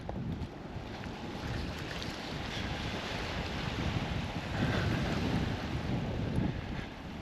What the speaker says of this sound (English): Gentle waves, the wind's not too bad.